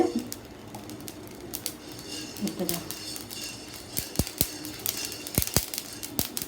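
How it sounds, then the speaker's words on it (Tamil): Mustard seeds spluttering in hot oil for tomato pickle, scattered sharp pops and crackles growing denser toward the end, close by, under a speaking voice and faint kitchen clatter. "கடுகு நல்லா பொரியுது"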